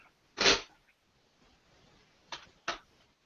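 Person sneezing indoors during a tabletop game session, one sharp burst followed by two shorter quieter bursts, with no talk over them.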